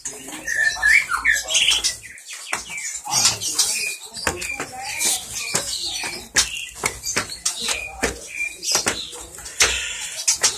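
Inside a bird house, many birds squawk, chirp and coo in dense overlapping calls, with bursts of flapping wings and rustling close by.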